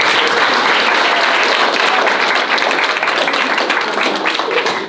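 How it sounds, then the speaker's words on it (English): Dense, steady applause from a party crowd at a Sweet 16 celebration, many hands clapping together at a loud, even level that holds for the full stretch without a break. "I want to give you guys a round of applause."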